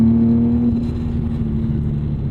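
A 2006 Infiniti G35 engine held near 5,000 RPM, a loud steady drone with a resonant hum and a faint metallic rattle from the metal bushings, close and continuous with no talking.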